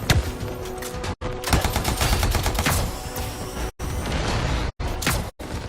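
Turret gunfire in the video game Anthem: dense, loud bursts of rapid automatic shots with booming impacts. The bursts run almost nonstop and are broken by a few abrupt short silences.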